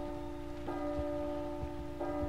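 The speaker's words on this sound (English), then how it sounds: "there's the bell." A church bell rings twice with clear, sustained metallic tones, each strike leaving a long ringing hum, heard at moderate distance over a low background.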